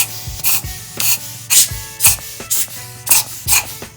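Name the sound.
brushing and blowing air on coffee grinder burrs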